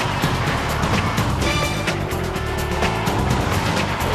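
A new TL kart engine runs hard on a track, a steady loud buzzing drone that holds without break throughout, close and continuous.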